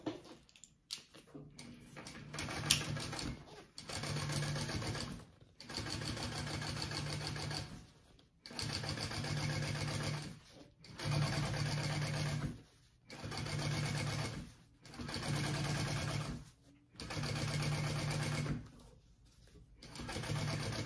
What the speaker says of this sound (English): now I'm going to top stitch along this top lining piece